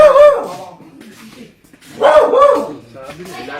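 Dogs bark and whimper in sharp bursts near a drainage canal where a cobra is hiding, loud at the start and again after a short lull, with people talking and shouting over them.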